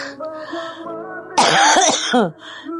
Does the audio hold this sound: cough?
yes